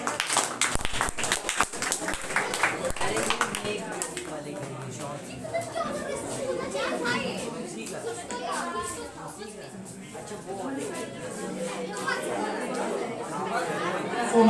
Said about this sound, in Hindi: बस जो तालियां।